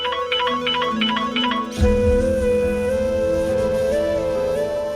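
A mobile phone ringtone playing a repeated melodic chime pattern for about two seconds, then giving way to a sustained musical tone in a dramatic scene.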